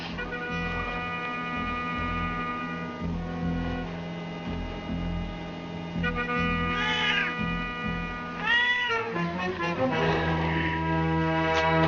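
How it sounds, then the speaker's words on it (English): A cat yowls in several drawn-out, rising and falling meows over a steady droning tonal background, the calls growing louder toward the end. "you're a silly old fat cat"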